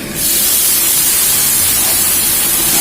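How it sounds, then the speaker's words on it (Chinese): Cooking wine hits the hot edge of a wok where crucian carp is frying with ginger and scallion, and a loud, steady, broadband hiss of steam and spatter erupts and holds close and continuous. "然后放入料酒，从锅边放激发香味，去腥增香。"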